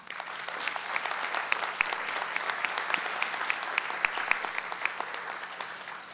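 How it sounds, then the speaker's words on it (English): A room full of people at a student speech competition final applauds steadily, many hands clapping at once in a sustained, moderately loud wave with no talking. "that deserves a big round of applause"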